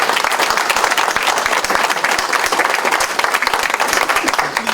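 Loud, continuous applause from a crowd at a voting-rights panel, dense clapping throughout with faint crowd murmur beneath.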